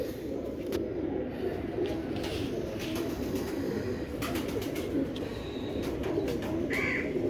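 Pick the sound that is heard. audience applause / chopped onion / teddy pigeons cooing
teddy pigeons cooing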